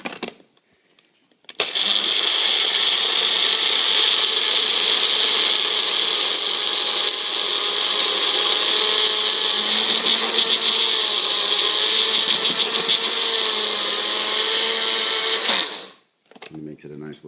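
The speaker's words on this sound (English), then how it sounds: "So I put the oatmeal in the magic bullet" A Magic Bullet blender grinds oatmeal into powder with a steady, loud, high whirring drone lasting about fourteen seconds, starting abruptly and spinning down at the end.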